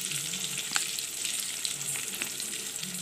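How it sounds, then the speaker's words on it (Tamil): Ghee goes into coconut milk rice in a hot pan, giving a soft continuous sizzle with faint crackles, close but quiet, with no voices. "இப்போ கொஞ்சம் நம்ம நெய் ஊற்றிக்கலாம்."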